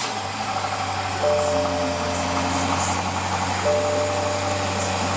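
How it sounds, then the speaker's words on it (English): A 2015 BMW 650i Gran Coupe's 4.4 liter twin turbo V8 idles with a steady low hum and faint mechanical whirs, close and even, with no talk. "Listen to that engine roar."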